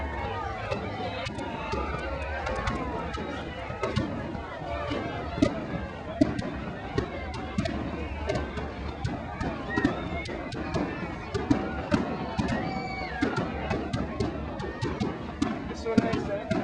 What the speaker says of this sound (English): Now here's a look at how St. Croix celebrated Independence Day with fireworks.